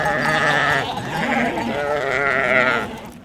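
A large flock of about 2,500 sheep crossing a road through the Boise foothills, migrating to summer grazing grounds, bleats loudly and continuously, with many close, overlapping calls rising and falling.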